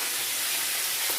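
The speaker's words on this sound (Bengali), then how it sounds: "হাফ হাফ করে ভেজে নিচ্ছে।" Fish heads frying in a pan of hot oil make a steady, even hiss and sizzle that holds at one level, close and alone without voices.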